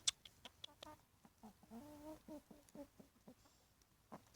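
Chickens and a rooster clucking in short bursts with a few higher calls, fairly close, with brief pauses between sounds and no talking, while eating onions.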